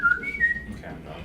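A short whistled melody from a video game, made of a few rising and sliding notes over a second, fairly clear against a low background.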